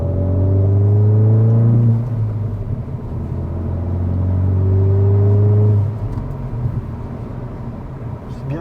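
Hyundai i20 N 2023 engine and exhaust while driving, a raspy, throaty drone that holds steady, drops after a gear change, then rises again, heard from inside the car.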